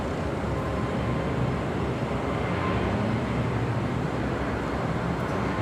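Boeing 747-400 freighter at LAX heading for the runway, rendered as a constant low, distant jet rumble with no voices over it.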